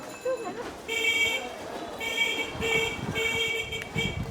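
Repeated car horn blasts sound in short bursts, several honks in a row, over street noise and background voices in the water town of Tongli, China.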